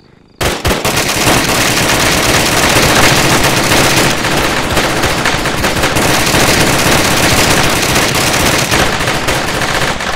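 Sustained automatic gunfire fills a combat scene in the military video game ARMA 3. It is loud and close, with rapid overlapping bursts that run almost without a break after a short quiet start.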